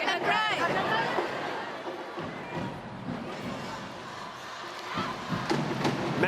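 A massive crowd of over 17,000 murmurs and roars through the Smart Araneta Coliseum during a PVL volleyball match, a dense, continuous babble with a brief whistle-like tone near the start and voices close by.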